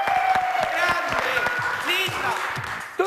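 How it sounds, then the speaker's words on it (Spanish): A television studio audience applauds to welcome guest Silvia Aguirre on a talk show. The steady clapping runs throughout beneath overlapping voices and background sound. "fuerte el aplauso para recibir a Silvia Aguirre"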